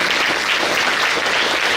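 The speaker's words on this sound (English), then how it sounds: "can y'all give another round of applause to our special visitors?" An audience at a school Black History program applauds special visitors with loud, sustained clapping that fills the whole moment without letup.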